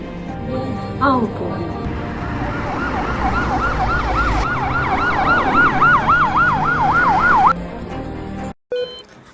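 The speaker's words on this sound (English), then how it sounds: "We got a call from ambulance." An ambulance siren wails in a fast repeating up-and-down pattern as it arrives carrying a cardiac arrest patient, loud and close above traffic rumble before cutting off abruptly near the end.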